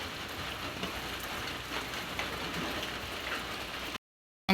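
Steady rain pours down, a dense even hiss of drops striking surfaces, continuous and fairly close, then cutting off abruptly near the end.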